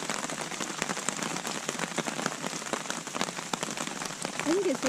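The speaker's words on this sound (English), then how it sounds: "It's not raining very hard or hailing very hard." Light rain and hail patter steadily on a surface at a campsite. The sound is a dense, even crackle of drops that stays fairly quiet, with a faint voice near the end.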